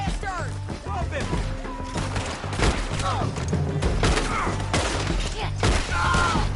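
Gunfire in a Red Dead Redemption 2 shootout: repeated sharp shots and thuds crackle in irregular bursts over a continuous game soundtrack, with voices shouting through the fight.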